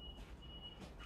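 A vehicle's reversing alarm beeps faintly in the background, a thin steady tone that breaks off and returns, heard alone without talk.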